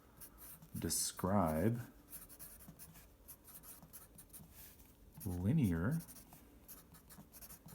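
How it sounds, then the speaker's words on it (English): A pen scratches steadily on paper in a notebook during a math lesson on slope and linear relationships, heard between two short bursts of a nearby speaking voice. "So we're going to open up our notebook, and at the top we're going to write down what we're doing today."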